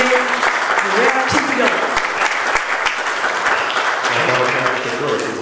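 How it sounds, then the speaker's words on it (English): Audience applause at an evening community forum, welcoming the moderator, a pastor: dense, steady clapping from a crowd that fills the room throughout, with a few louder individual claps near the microphone. "Let's give him a round of applause."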